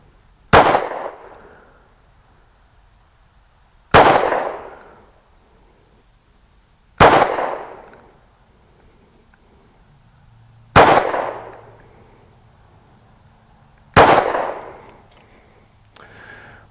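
Five sharp, loud Ruger LC9 pistol shots at a shooting range, spaced about three seconds apart, each with a crack and a short decaying echo, fired slowly and deliberately.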